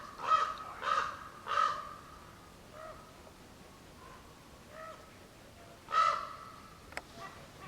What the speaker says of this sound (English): No, that's a crow.